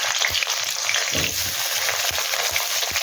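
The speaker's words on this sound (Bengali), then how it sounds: "এবার এর মধ্যে আলুগুলো দিয়ে দেবো।" Potatoes frying in hot oil seasoned with panch phoron and three chillies, a loud, steady sizzle with crackling and the occasional scrape of stirring, close and continuous for a few seconds with no talk.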